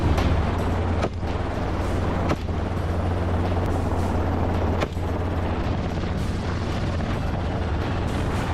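A hog-hunting helicopter's steady low rotor drone throbs throughout, loud and close, with a few sharp thumps breaking through.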